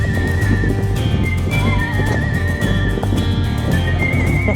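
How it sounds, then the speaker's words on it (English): Horses canter along a trail on an African riding trip, a steady drumming of hooves under loud wind, with whinnying and snorting over the hoofbeats throughout. "Katie's horse started cantering too once it saw mine"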